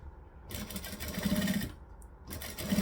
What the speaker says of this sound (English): Out of habit, I am going to stitch and back stitch